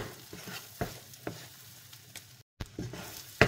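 Butter and salted egg sizzle quietly in a pan while a utensil scrapes and taps against it in irregular strokes.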